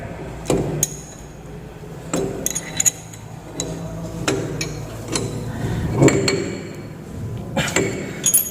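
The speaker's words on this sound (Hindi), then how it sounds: "अब इसे रिंच की सहायता से इसे टाइट करें" A wrench tightens a lathe dog with a copper seat onto a workpiece held between centres, giving a series of sharp metallic clinks and taps at irregular intervals over a quiet workshop background.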